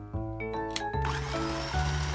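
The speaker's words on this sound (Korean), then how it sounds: "이제 믹서기로 주스를 만들 거예요." A motorized blender blending strawberries into juice whirs steadily, its pitch shifting a couple of times as the load changes; cartoonish music-like tones sit on top.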